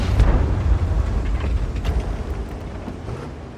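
A tank cannon firing and an explosion in the World of Tanks video game, a heavy low boom that rumbles and slowly fades over a few seconds with no voice on top.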